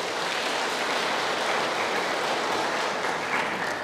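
An HKBP church congregation claps hands together in a dense, steady wash of sound that holds at an even level, with no distinct individual claps standing out.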